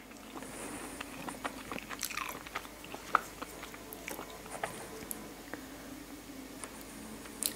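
Crunchy chewing of spicy Malaysian instant noodles, close and quiet, with irregular bites and crunches scattered through a soft background hiss and no talk.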